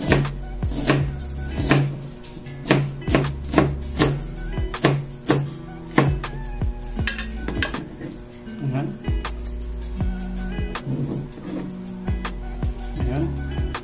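Knife chopping onion on a cutting board while making pork adobo with banana heart, heard as a run of sharp, close, steady chops over sustained background music, with occasional pauses.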